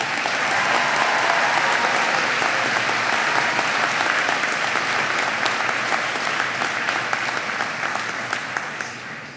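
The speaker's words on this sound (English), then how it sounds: "graduates, give them a round of applause also" Sustained, dense applause fills a large hall at a university winter undergraduate commencement, steady and loud throughout as graduates clap for faculty and staff, tapering only slightly at the end.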